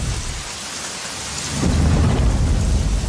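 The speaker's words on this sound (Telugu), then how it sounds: "ఈ వర్షం ఒకటి." Heavy rain falls in a film scene, and a deep rumble of thunder swells up halfway through and rolls on beneath the downpour.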